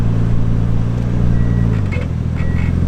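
A Mazda RX-7 FC3S drives by with a loud, steady low engine drone that shifts pitch partway through, heard close with no talk.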